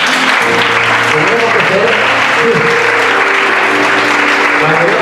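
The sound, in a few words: congregation applauding in church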